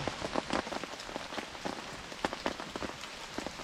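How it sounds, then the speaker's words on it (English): Light rain at a truck campsite, patters and drops hitting a surface nearby in an irregular, steady shower with no talking. "got a little rain coming back, but we're gonna ride it out anyway"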